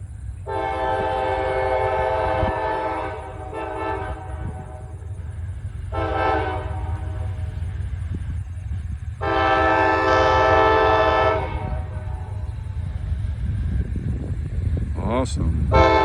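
Long blasts of a freight train's horn sound repeatedly, fairly close and loud, over a steady rumble of the heavy train as it prepares to climb a hill, with brief talk near the end.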